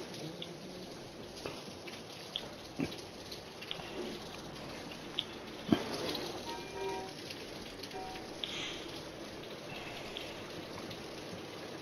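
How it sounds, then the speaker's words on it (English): Light, steady rain in the video game World of Warships: Legends patters on surfaces, with scattered louder drips and a few sharp taps standing out from the soft wash. "That's rain."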